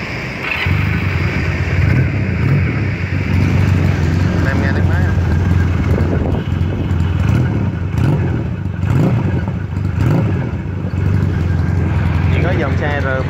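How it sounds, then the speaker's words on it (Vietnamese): A Honda Rebel NC170 water-cooled motorcycle engine with a radiator fan runs at a steady, loud idle with a rough low throb, under talk throughout. "để anh tới tiếng máy nổ cho anh em nghe luôn, tiếng máy nổ rất là dữ dằn"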